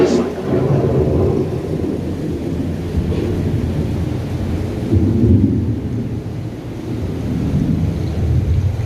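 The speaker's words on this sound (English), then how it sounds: "The approaching storm may seem violent and destructive to us" Rumbling thunder from an approaching storm in the Living with the Land ride at Epcot, a continuous low, loud roll of thunder and rain that swells and recedes throughout.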